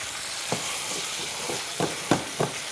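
Shrimp sizzle in a hot pan with a squeeze of fresh lemon, a steady broad hiss carrying several short clatters and tossing bumps at irregular moments, close and moderately loud with no talking.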